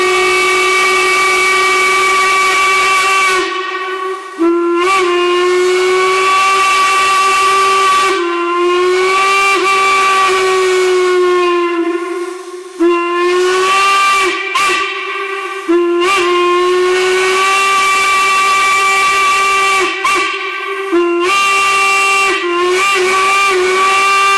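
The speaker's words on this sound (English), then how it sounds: "So you can hear that whistle" A steam whistle fitted to an old Artisan Manufacturing Company lathe sounds in long, loud, piercing blasts, several held for seconds with brief breaks between, each carrying a breathy hiss.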